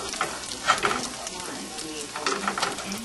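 Butter sizzles in a frying pan, a soft steady crackle with light scraping and spatula clinks, fairly quiet and close, with no clear talk over it.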